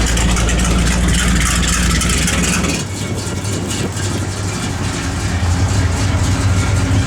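A 1966 Plymouth Belvedere II engine runs with its exhaust dumps open, a loud, steady, deep rumble that shifts to a lower, rougher idle partway through and holds there close by, with no talking.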